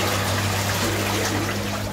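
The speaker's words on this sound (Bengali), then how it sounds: "এই যে জলটা দেখতে পাচ্ছ, এইটা এখন আমি ফেলে দেবো" Water splashing and trickling as it is poured out at home before a bath, a brief continuous close rush of liquid.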